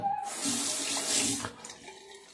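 Water running from a tap into a bathroom sink during a traditional wet shave, a close, steady rushing stream that cuts off after about a second and a half, leaving quiet handling noise.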